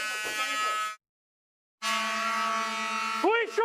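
A blaring buzzer-style school alarm in police bodycam footage from a school shooting: loud continuous electronic tone, a brief gap, then the alarm resumes with a voice shouting over it at the end.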